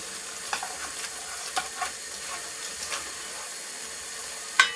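Goulash ingredients stirred in a hot pan, with a soft continuous sizzle and hiss and several light scraping knocks of the spoon, ending in a sharper clack; close and fairly quiet.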